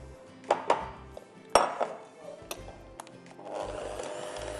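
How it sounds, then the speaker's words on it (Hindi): Whisk or spoon clattering against a bowl while caramel mousse mixture is beaten, with several sharp clinks and scraping taps up close and softer stirring toward the end. "इसको आपने फेंटना है साथ।"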